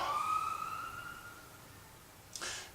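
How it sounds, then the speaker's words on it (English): A siren wails outdoors at moderate distance, its steady tone sliding down and fading away over about two seconds, followed by a short burst of noise. No one speaks. "I was going to wait for the siren to end."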